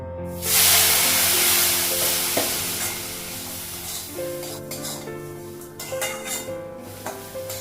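Semolina pulao cooks in a pan after a little water goes in, giving a loud, steady sizzle and hiss that gradually softens, with occasional stirring clinks and scrapes along the way.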